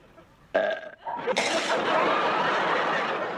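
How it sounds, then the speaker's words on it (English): A person lets out a loud, drawn-out belch up close, followed by snickering laughter. "teach me to belch"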